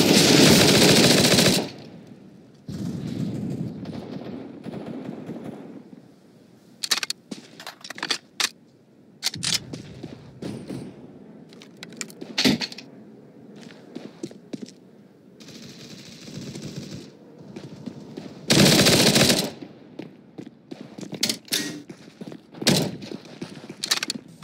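Long gun fire in a live-streamed game, loud bursts of rapid automatic gunfire scattered among irregular clicks and shots, fairly close and busy throughout.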